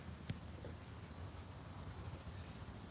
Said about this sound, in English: I guess it's a cricket chirping, and its chirp sounds a lot like my bell.